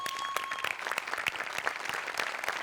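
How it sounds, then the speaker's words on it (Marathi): Studio audience on a Marathi comedy show bursting into sustained, dense applause, steady clapping filling the whole stretch at moderate loudness with no talking over it. "एकदा जोरदार टाळ्या सगळ्यांसाठी"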